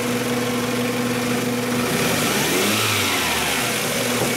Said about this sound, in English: really all you got to do on these is rev them up